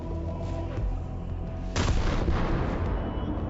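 Heavy naval gunfire booms in a War Thunder sea battle, a dense continuous barrage of cannon shots with a sharp, louder burst of blasts partway through, loud and close.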